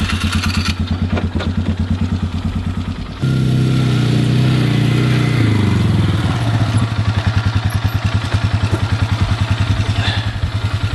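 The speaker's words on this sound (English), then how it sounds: "I'm going to run over the whole section with the tires of my ATV" An ATV rolls over freshly planted food plot soil, its engine a loud, steady close putter that swells into a heavier revving stretch midway before settling back to a rhythmic chugging run.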